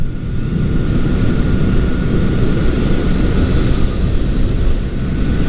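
A 1979 Honda CB750 motorcycle engine on the road, a loud steady low drone with rushing wind noise that holds constant for several seconds while riding.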